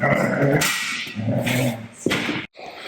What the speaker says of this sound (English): Dog's killing his ball.